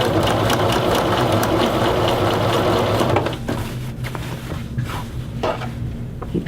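A sewing machine back stitches along the yoke of a men's shirt, running loud and steady for about three seconds before stopping, followed by fainter handling clicks and taps of fabric and parts.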